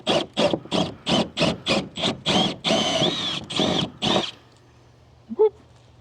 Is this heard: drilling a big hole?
yes